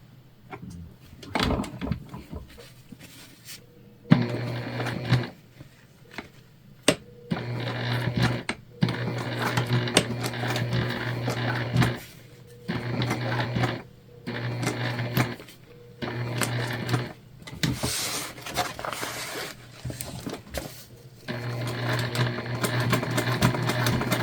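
A sewing machine stitches a tote bag in repeated loud, close runs of rapid mechanical whirring, broken by short pauses and handling clatter between bursts.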